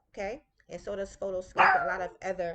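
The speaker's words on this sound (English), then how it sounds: "please excuse my dog in the background" A pet dog barks in the background of a home setting, short yips mixed in with a woman's continuous nearby speech that stays louder throughout.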